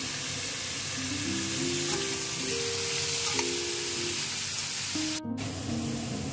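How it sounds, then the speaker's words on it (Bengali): Banana stem (thor) pieces fry with turmeric in hot oil in a pan, giving a steady, close sizzle throughout with a brief dip near the end and no talking. "এবার থোড়টাও দিয়ে দিচ্ছি। দিয়ে আমি হালকা করে একটু ভেজে নেব।"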